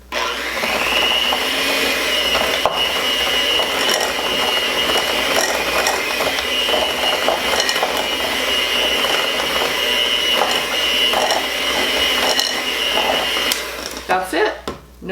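Shortbread cookie dough with vanilla and an egg yolk being mixed by a steady electric mixer, a continuous whirring drone with a faint clicking rattle that stops near the end.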